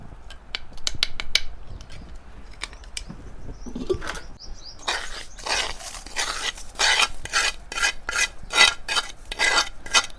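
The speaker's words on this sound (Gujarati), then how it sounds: "હવે આપણે આ ત્રણેય વસ્તુને મિક્સ કરી દેવી." Spoon scraping and stirring semolina, cashews, almonds and fried coconut together in a metal pot for ladoos, a run of short rhythmic scraping strokes that grows busier and louder toward the end.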